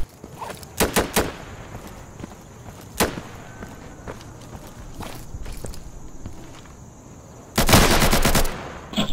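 Gunfire in a first-person tactical shooter game: scattered sharp single shots, then a dense automatic burst near the end, with quieter footstep-like thumps in between.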